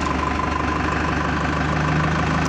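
Powertrac Euro55 tractor with a vibration fault, its engine running steadily close by with a dense, rough mechanical drone as the speed is raised.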